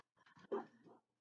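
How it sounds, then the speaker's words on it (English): A few dogs in a house bark at something outside, giving a handful of short, sharp barks close by over about a second, with no other sound. "The dogs see something outside."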